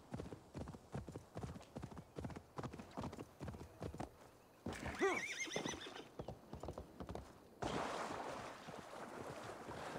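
A horse in the game Assassin's Creed Valhalla trots with a quick run of clip-clopping hooves, then gives a loud whinny midway before surf and water wash in behind, no voices.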